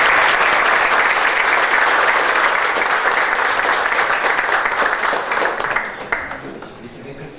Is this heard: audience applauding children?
yes